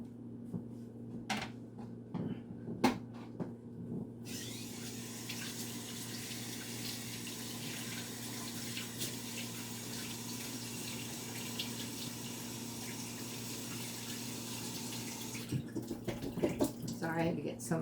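A tap runs steadily into a sink for a long stretch while paint is washed off hands, with a constant hum underneath and some clunks and handling noises before and after the flow.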